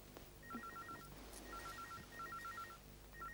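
A telephone rings faintly in repeated electronic bursts over a low background hum, with no talking.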